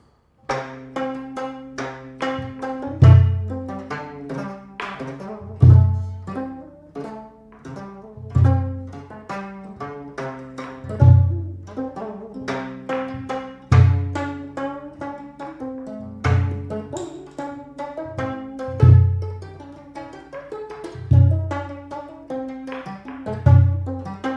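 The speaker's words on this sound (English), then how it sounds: "Gayageum, it sounds like this." Plucked gayageum strings ring out in a slow, spaced melody, each pluck decaying with a resonant bass note underneath, played solo.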